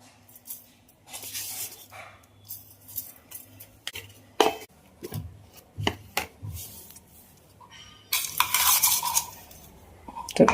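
Garlic cloves, cumin seeds and a small green chilli are ground with a little salt, making irregular scraping and knocking bursts of varying loudness, some sharp and close, with quiet gaps between and no talking.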